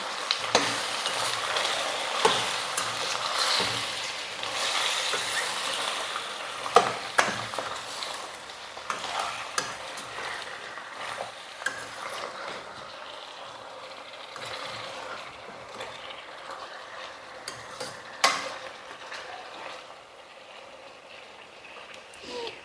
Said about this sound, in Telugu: దీన్ని ఒకసారి మనం కలుపుకుందాం.